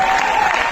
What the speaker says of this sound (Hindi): एक बार मिलकर के तालियां बजा दो जोरदार।